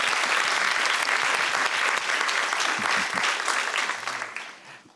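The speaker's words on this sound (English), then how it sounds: "Let's give them a huge round of applause." An audience claps for panelists at a queer Asian film screening panel, dense sustained applause that holds for several seconds and then tapers off.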